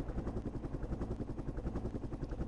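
Helicopters in the wargame Flashpoint Campaigns: Southern Storm give a steady, rhythmic rotor thump with a low engine drone. The sound runs continuously at moderate level throughout, with no talk over it.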